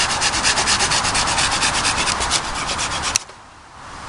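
Gerber hand saw cutting through a piece of dead wood, close and loud, with rapid regular rasping strokes that stop abruptly near the end before quiet follows.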